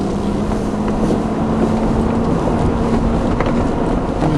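Off-road vehicle creeping downhill in first gear low range on slippery, rocky ground, with a steady loud engine drone and rumble throughout and no talking.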